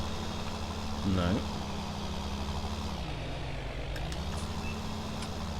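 Tractor engine in Farming Simulator 19 straining uphill on a Seasons farm map, a steady low laboring drone that dips in pitch midway and recovers, with a brief voice-like rise near the start.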